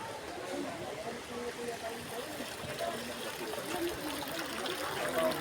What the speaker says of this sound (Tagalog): Ayun lang daw yung falls